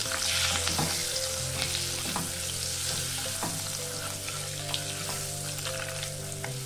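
Salt, chili powder and turmeric are stirred through sizzling oil with fried eggs in a pan, a steady close sizzle with intermittent scraping stirs and no talk.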